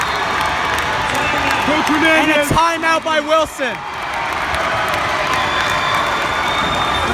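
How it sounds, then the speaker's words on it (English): A crowd roars and cheers at a high school varsity boys basketball championship game between Wilson and St. John's in the DCSAA final, loud and sustained beneath an announcer's commentary, swelling with whistles and shouts midway. "crowd is wild"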